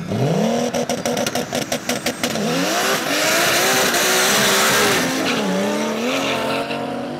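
BMW and Audi race cars speed past one after another at a track event in Kazlų Rūda, engines revving and rising in pitch as they pass close and loud, with brief tyre squeal between passes.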